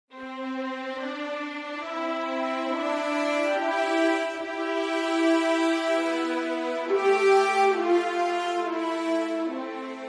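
Orchestral horns play a counter melody together with the main melody, sustained brass tones overlapping and gliding between held notes at a moderate, even volume with no talking.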